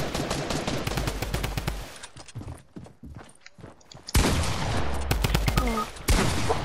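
Gunfire in a multiplayer video game: bursts of rapid shots crackle up close, fade into a sparse lull with scattered single pops, then come back as loud sustained volleys, with no one speaking.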